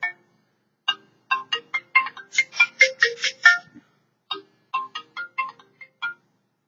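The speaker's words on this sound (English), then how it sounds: "It's ringing." A telephone ringtone plays in repeated short electronic bursts, first sparse, then a fast run of tones, then another group of short rings, clear and alone against silence.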